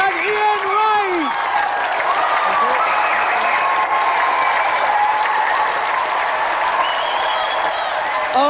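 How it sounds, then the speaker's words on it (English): A studio audience at a games show gives a loud, sustained round of applause with scattered whoops and cheers, a presenter's voice briefly audible over the crowd at the start. "And another round of applause for Tammy and Mead and Ian Wright."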